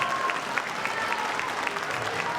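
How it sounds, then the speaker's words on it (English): Audience applause at a school winter concert, a steady wash of clapping from a crowd that holds evenly throughout at moderate loudness, with no talk over it. "Let's go ahead and give a round of applause for Dr. Gonzalez."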